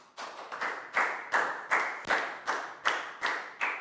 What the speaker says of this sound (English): Big round of applause for Lacko,